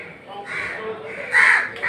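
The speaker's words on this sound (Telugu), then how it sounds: "చూసారండి ఎలా వస్తున్నాయో కాకులు" Crows cawing as food is thrown out for them, several harsh calls rising louder toward the end while someone talks over them.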